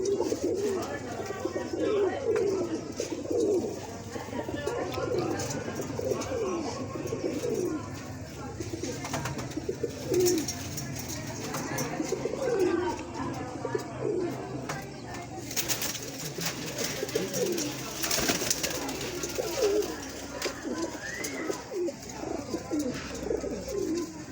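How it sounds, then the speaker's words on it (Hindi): A golden female pigeon with red eye markings coos in repeated low, rolling phrases nearby, while someone talks over it throughout. "ये मादी है इस कबूतर की, लाल बुलियों वाली गोल्डन मादी।"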